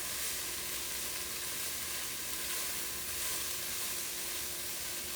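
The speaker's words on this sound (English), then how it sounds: "I'm going to just stir that in so we can smell it really good. It doesn't take long when you've got a hot pan like this." Minced garlic sizzles steadily in a hot pan while being stirred in, a continuous close frying hiss with no talk over it.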